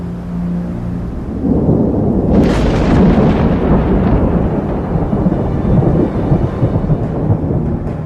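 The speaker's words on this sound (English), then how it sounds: "If the wind turns to a northerly or northeasterly, the Arlberg is in for a storm." A thunderstorm rolls over the Arlberg mountains: a deep, loud rumble of thunder swells after a quiet start and keeps grumbling with rain hiss underneath, filling the scene without any voices.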